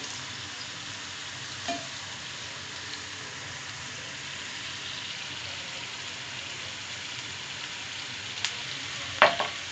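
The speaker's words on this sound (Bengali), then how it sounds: "বাদামি কালার করে এগুলো আমি ভেজে নিব" Sliced okra chips deep-frying in hot oil, a steady dense sizzle throughout with a few faint utensil clinks and a sharper scrape near the end, no voices.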